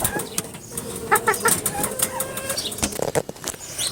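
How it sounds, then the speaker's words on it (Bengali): Backyard chickens being fed cooked rice flap their wings in several quick, rustling bursts close by, with faint bird calls between the flurries. "মুরগিকে ভাতগুলো দিয়ে নিব"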